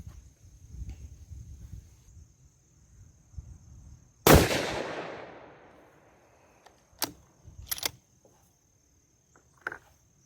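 A Mossberg Patriot Predator rifle with pillar bedding fires 123 grain SST ammunition: one loud, close shot with a long decaying echo. Sharp clicks and knocks of handling follow in quiet surroundings.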